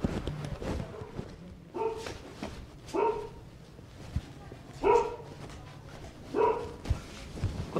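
A dog barks four times in evenly spaced bursts at moderate distance, each bark sharp and harmonic, over a steady low background hum.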